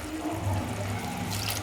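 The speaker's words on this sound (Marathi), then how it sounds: "तर गरम पाणी आपण टाकू." Hot water is poured into a pot of white pea curry, making a brief, steady splashing gurgle close by.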